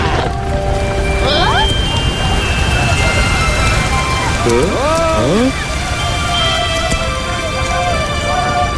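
In an animated baby-dinosaur cartoon, rain conjured by a magic spell hisses steadily and loudly throughout, while rising whistling swoops mark the spell's effects.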